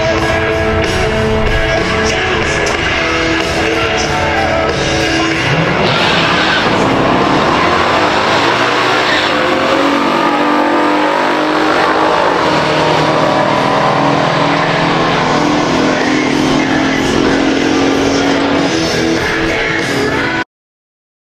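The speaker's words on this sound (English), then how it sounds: "How about we check out that drag race?" A 1969 Camaro ZL1 and a 1971 429 Cobra Jet Mustang run a pure stock drag race, with loud engines revving and roaring hard under acceleration, the sound shifting as the cars launch and pass, with no talk.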